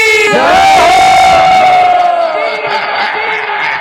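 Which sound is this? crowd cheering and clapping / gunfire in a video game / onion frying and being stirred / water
crowd cheering and clapping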